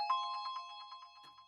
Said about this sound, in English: We also added this little bell sound.